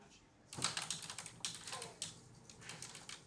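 Loud typing on a computer keyboard in an office: bursts of rapid, close key clatter with short pauses between runs, fairly faint overall and heard alone.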